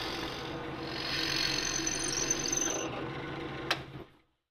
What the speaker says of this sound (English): Then I can drill those out.